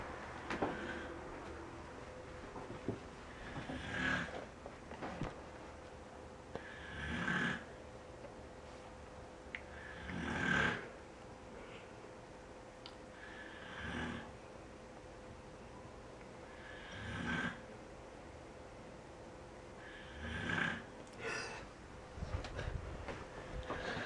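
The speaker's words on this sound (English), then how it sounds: "I can hear Mum snoring like a freight train." Slow, deep snores repeat about every three seconds, steady and fairly faint, over a quiet background hum.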